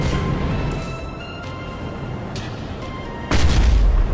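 Gunfire in the Planetside 2 video game: a few scattered shots and booms under a steady background hum, ending in a louder burst of heavy fire.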